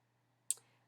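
A single sharp computer mouse click while working in Microsoft Word, close and crisp with a short tail, over near-silent background hum.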